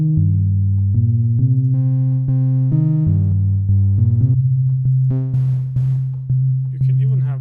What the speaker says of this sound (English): right click and set it to FM.